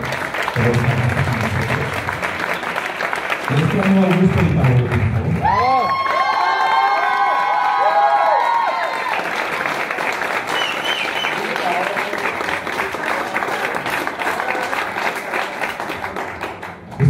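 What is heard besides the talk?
audience applause and cheering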